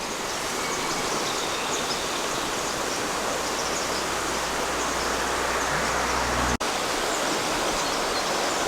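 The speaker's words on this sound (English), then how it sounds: "the sound of the water" Water flows in a stream beside a Camino Francés walking trail in northern Spain, a constant rushing hiss that stays steady throughout, broken once by a sharp click, with no talking.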